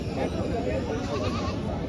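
A goat bleats amid a noisy crowd at a goat market in Jhenaidah, its cries mixed in with overlapping chatter and background bustle.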